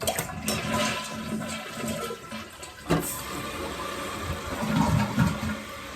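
Toilet tank refilling through a Korky QuietFILL fill valve, a steady hiss and gurgle of running water that stays close and even throughout, with one brief clunk partway and no speech.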